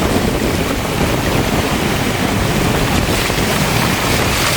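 Floodwater rushing toward the shore of a flooded island settlement, a loud, steady roar of churning water mixed with wind buffeting the microphone, continuous throughout with no voices.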